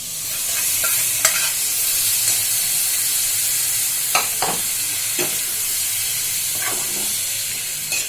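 Cooked black-eyed peas being stirred into a masala in a hot pan: a steady close sizzle and hiss, with occasional spoon scrapes against the pan.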